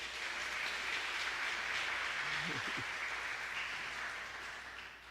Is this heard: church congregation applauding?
yes